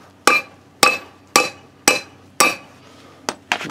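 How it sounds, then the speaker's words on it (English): Lug studs on a 1987–96 Ford F-150 or Bronco 4x4 front rotor hub being hammered out: six sharp metallic blows at an even pace, then a few quicker lighter taps, close and clear with no talking. "you have to beat out these lug studs, and then you can remove the rotor from the hub"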